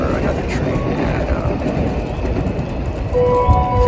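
A commuter train at Shinjuku Station in Tokyo rolls past with a loud, steady rumble, low wheel clatter and rail squeal, and faint voices murmuring in the background.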